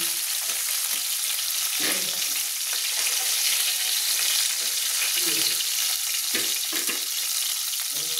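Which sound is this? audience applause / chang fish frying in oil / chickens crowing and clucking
chang fish frying in oil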